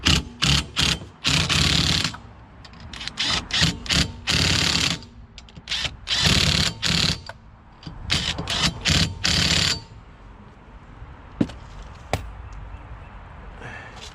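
Ratchet wrench clicking in repeated bursts while tightening the lug nuts on a 2001-05 Honda Civic wheel, a rapid pawl rattle close up, with short pauses between runs and a few sharp clanks near the end.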